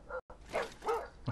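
A dog barks in The Walking Dead Season 2 video game, two or three short yelping barks with brief gaps, fairly close and alone without talk.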